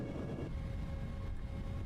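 A Boeing 777 freighter begins its takeoff roll in a flight simulator game, a steady loud low engine roar with broadband rumble holding constant throughout.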